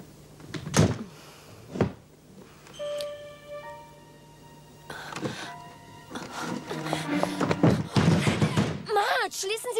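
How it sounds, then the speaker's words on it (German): A door is shut with a couple of solid thumps, followed by metallic clicks and rattling as it is locked, then a voice and other sounds build up near the end. "Marge, schließen Sie die Tür wieder auf!"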